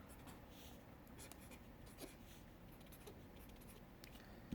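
A pencil or pen scratches steadily on paper while a drone and its controller are sketched roughly, a soft continuous scribbling close by with no talk.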